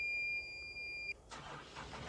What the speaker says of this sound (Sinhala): මේ එන්ජිමේ සද්දෙත් පට්ට ඒක